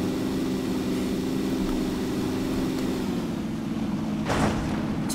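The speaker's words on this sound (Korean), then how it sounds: "비행기가 또 지나갈 때가 됐는데" A transport airplane drones overhead in the PUBG Battlegrounds video game, a steady loud low engine roar that holds throughout with a brief swell near the end.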